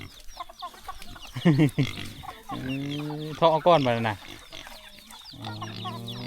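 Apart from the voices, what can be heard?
chickens clucking while eating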